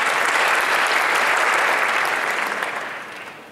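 Audience applause at a Seoul Digital Forum panel session, a loud, dense wash of clapping from a large indoor crowd that holds steady and then tapers off toward the end.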